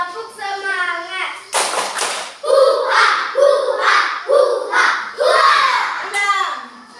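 A class of young children chant and clap together in a rhythmic spirit clap, several loud bursts of claps alternating with their voices, close and lively in a classroom.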